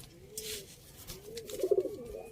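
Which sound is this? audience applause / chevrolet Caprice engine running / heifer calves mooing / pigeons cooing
pigeons cooing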